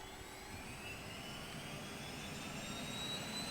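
An Airbus H135 helicopter in a flight simulator mod winds through engine startup, a faint steady turbine whine with rising high tones over a low rumble, no voices.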